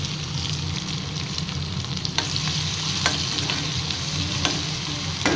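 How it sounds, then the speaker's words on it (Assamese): Chopped tomatoes with garlic, ginger and green chilli sizzle steadily in a hot pan, a constant close frying hiss broken by a few light stirring scrapes, with no voices. "এতিয়া মই কাটি থোৱা বিলাহীখিনি দি দিছোঁ"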